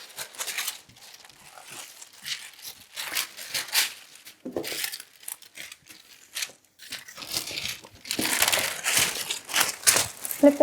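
Glassine paper crinkling and rustling as an oil pastel painting is wrapped in leftover sheet, with close, irregular bursts of crisp paper handling and brief pauses between.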